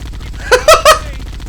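Gunfire in the video game Halo: Combat Evolved, three quick bursts close together, loud over quiet background game sound.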